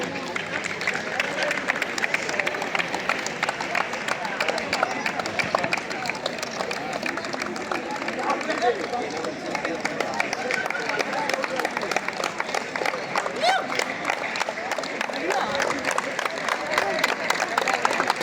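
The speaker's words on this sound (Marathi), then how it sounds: "संघाच्या खेळाडूंनी टाळ्या वाजवून वेलकम करायचं आहे" At a college kho-kho final, players clap a rapid, steady rhythm to welcome a guest walking onto the ground, with crowd murmur and voices talking over the continuous clapping.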